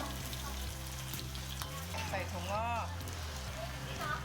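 Food sizzles and crackles steadily in a hot pan while cooking Thai dishes, a close, continuous frying hiss with occasional stirring and a voice speaking over it.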